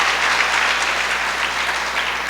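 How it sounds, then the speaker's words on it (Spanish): A church congregation applauding, dense sustained clapping from many hands that fills the room evenly and stays strong and steady throughout. "Dele un aplauso al Señor"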